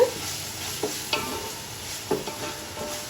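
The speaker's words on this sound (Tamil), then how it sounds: "கொஞ்சம் கேர்ஃபுல்லாக கிண்டி விட்டுக்கோங்க அடி பிடிக்காத கிண்டி விட்டுக்கோங்க" Ginger garlic paste sizzles in a pot while a spoon stirs it, with a few distinct scraping strokes over a steady frying hiss, close and moderately loud.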